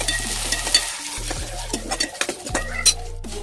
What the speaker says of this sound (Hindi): प्याज को हम 2 से 3 मिनट तक अच्छे से भून लेंगे